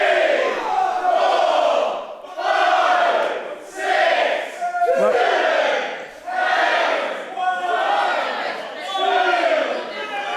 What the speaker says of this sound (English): The crowd here are trying to count for referee Tom Scarborough.